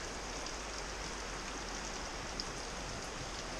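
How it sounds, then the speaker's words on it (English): Tiny cascading waterfalls along the Virginia Creeper Trail in Virginia give a faint, steady wash of trickling water, an even hiss with no pauses and no voices. "Tiny little cascading waterfalls, bringing the life essence down"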